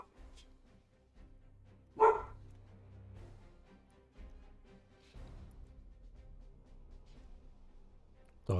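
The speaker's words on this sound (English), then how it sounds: "Dog is just barking a bark." A dog lets out one sharp bark in a quiet room, with a low hum behind it and another brief bark cut off at the very end.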